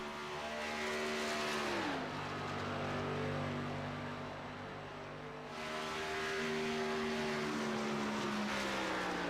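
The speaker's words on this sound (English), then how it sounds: "Brightly colored race car right there, that 37 machine. Really sailing it off here at Chicagoland." A race car engine, the brightly colored No. 37 with throwback sponsors, drones loud and steady through the eSpeed Sport sim racing game at Chicagoland, its pitch dropping and then climbing again as it shifts.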